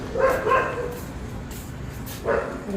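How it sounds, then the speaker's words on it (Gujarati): A dog barks in a few short yaps near the start and again near the end, fairly close, with quieter background between bursts. "કૂતરું બોલે છે કંઈ સંભળાતું જ નહીં"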